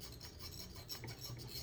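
A file rasps in short repeated back-and-forth strokes on a bone guitar nut slot, close and fairly quiet, with no one speaking.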